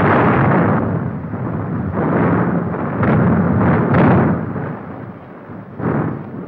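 Heavy anti-aircraft guns firing during a 1942 air raid on Moscow, a dense, continuous rumble of loud booms rolling one into the next, with sharper blasts standing out now and then.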